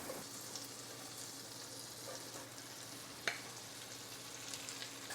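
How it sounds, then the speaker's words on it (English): Butter melts in a pan with a soft, steady sizzle and crackle, close and quiet, with one brief clink partway through and no talking. "let's drop some butter in a pan. Boom. Just gonna melt that a little bit."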